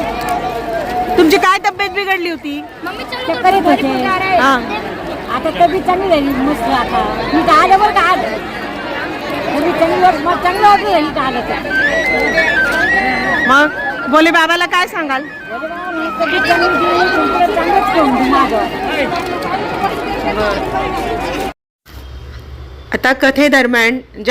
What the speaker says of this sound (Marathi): प्रचंड गर्दी आहे